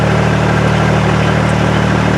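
A canal narrowboat's diesel engine runs steadily and loudly at close range, with a constant low throb and even harmonic hum that barely changes; no one speaks.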